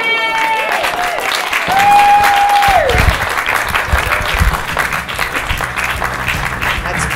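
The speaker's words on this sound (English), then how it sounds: "I'm giving another clap." Audience applause at a Melbourne stand-up comedy show, a steady wash of clapping with some crowd noise, while a voice briefly carries a rising sung or exclaimed tone over it.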